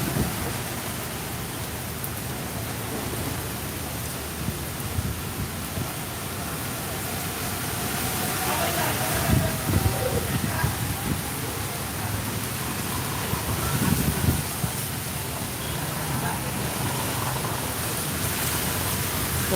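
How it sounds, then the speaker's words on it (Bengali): A night-time nor'wester storm in Sylhet sends wind whooshing in a constant broadband roar while rain pours steadily. A few louder gusts or thuds break through midway, with no voices. "সা করে শব্দ করছে বাতাস"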